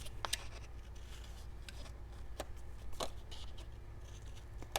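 Scissors snip into a paper corner with a few sharp, separate cuts over a quiet room hum, soft rustling in between.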